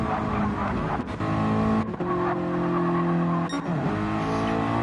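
A Gran Turismo 7 race car in a Sportsman Series stock race at Tsukuba spins out, its steady engine drone joined by tire skidding and brief scrapes, with other cars droning close throughout.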